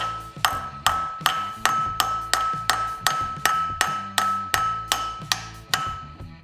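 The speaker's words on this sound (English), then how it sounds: "Now when you put this back in, you're gonna need to use a little hammer" A small hammer taps a part into the crankshaft of a Suzuki Samurai during clutch replacement, giving a steady series of about fourteen sharp metallic knocks with a ringing ping, evenly spaced and close up.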